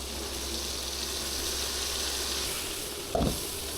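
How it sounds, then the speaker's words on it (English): Loud, steady sizzle of chicken searing in a hot wok, a continuous crackling hiss with a brief clatter near the end. "We will start by searing the chicken until it's golden brown. Listen to that sizzle."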